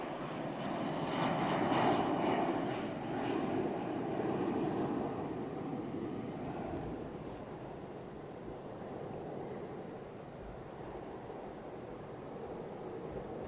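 An Iberia Airbus A330 at London Heathrow gives off a faint, distant jet-engine roar, a broad steady rush that swells slightly early on and then holds low and even.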